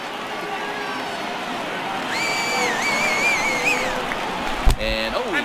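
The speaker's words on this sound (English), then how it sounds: "I can hear the crowd murmuring now, wondering if he hit him on purpose." Steady crowd murmur from a simulated ballpark in MLB The Show 18, a Yankees game against the Los Angeles Angels, forms a continuous low bed with a few tonal calls rising over it and a sharp knock near the end.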